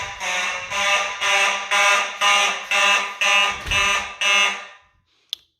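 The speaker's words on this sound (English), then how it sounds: "mechanical horns always sound good on March time" Simplex electro-mechanical fire alarm horn blaring in a march-time pattern: nine loud, harsh buzzing blasts in an even rhythm, then silence and a single sharp click.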